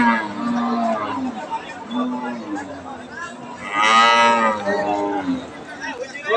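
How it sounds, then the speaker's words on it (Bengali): At a Comilla cattle market selling crossbred cows, people talk nearby while a cow lets out a loud, drawn-out moo partway through, set against a low murmur of market chatter. "সাদেকুল ভাই গরু তো আজকে মোটামুটি কিনছে না বাকিগুলা কোথায় কিনবেন"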